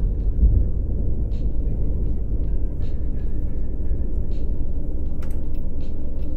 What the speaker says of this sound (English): Just sounds like a rattly, prattly old coach